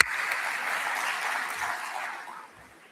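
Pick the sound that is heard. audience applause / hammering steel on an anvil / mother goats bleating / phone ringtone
audience applause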